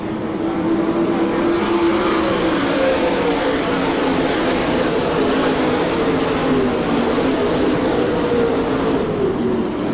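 Sprint race cars lapping the Hartford, Ohio oval during an All Star Circuit of Champions Speedweek event, a loud continuous engine roar with gliding pitch as the pack passes, no voices.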